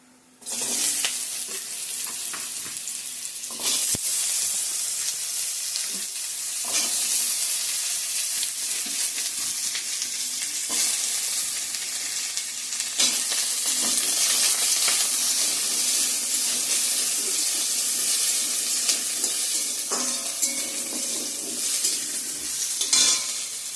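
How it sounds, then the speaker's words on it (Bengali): Slices of sweet pumpkin fry in a pan with a steady, loud sizzle, punctuated by occasional stirring clatter and scraping, with no talking. "চলো বন্ধুরা, কুমড়া ভাজাটা বসিয়ে দিব এখন আমি।"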